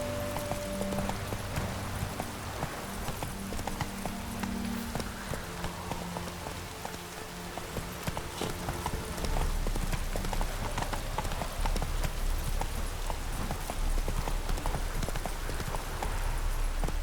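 Roach the horse galloping in The Witcher 3: a brisk, even hoof rhythm over a constant rain-like wash, with the pace growing heavier and fuller partway through.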